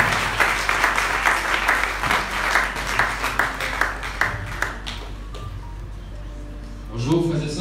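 A church congregation applauds to acclaim the Lord, a fairly loud sustained wash of clapping with sharp individual claps, mixed with some voices, fading near the end.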